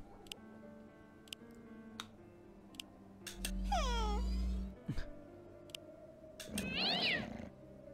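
In the game Dark Dimensions: City of Fog, a cat gives two clear, drawn-out meows a few seconds apart. Sparse ticking clicks and a low rumbling hum sound around them, with no talking.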